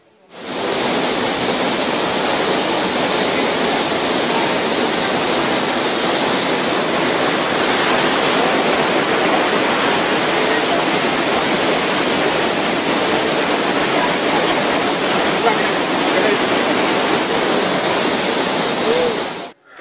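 The Vazhachal waterfalls send up a steady, dense roar of rushing water that stays loud and unbroken for the whole stretch, with no other sounds rising above it.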